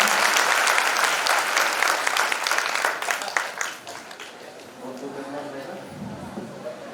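Participants at a youth camp session applaud loudly, brisk clapping that thins out after a few seconds as a voice carries on speaking over the last scattered claps.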